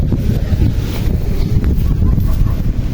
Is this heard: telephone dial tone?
no